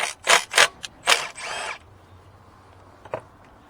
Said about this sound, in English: now we're going to take that 10mm bolt off.